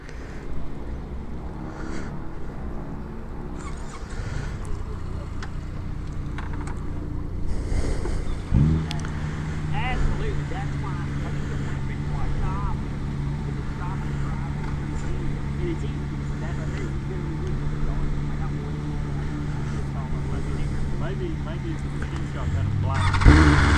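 BMW M motorcycle on a test ride at a dealer demo day, its engine droning steadily under heavy wind rush as a rider talks over it.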